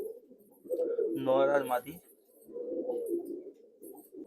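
A breeding pair of Madras pigeons coos in low, rolling bursts, one stronger cooing phrase in the middle with steadier murmurs before and after, close by while someone speaks briefly over them.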